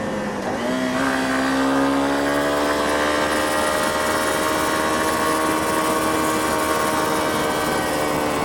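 A Honda CRF250 Rally motorcycle engine revs hard after a downshift to second gear, steadily climbing in pitch, loud and close, running continuously throughout.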